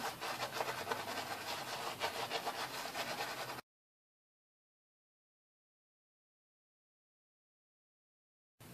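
A silvertip shaving brush swirling shaving soap into lather makes a steady, close, wet rubbing and scrubbing sound for a few seconds, then stops abruptly and silence follows.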